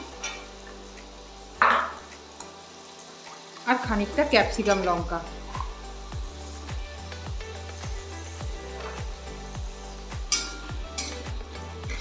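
Vegetables, including green peas, sizzle and crackle in a hot pan while a spoon stirs and scrapes rhythmically, with a person speaking briefly over it.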